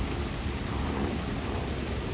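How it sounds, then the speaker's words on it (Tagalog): Heavy typhoon rain pours down in a dense, continuous roar with a constant loud wash of falling water. No voices are heard over it. "Lakas ng ulan."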